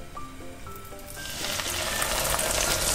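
A chicken katsu cutlet drops into hot oil and the sizzle swells quickly into a loud, continuous frying hiss that fills the rest of the moment.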